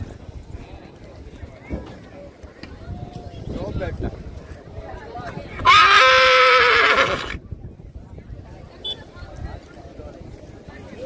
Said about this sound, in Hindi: ये मेघुबा वाले घोड़े का काफ़ी खूबसूरत घोड़ा है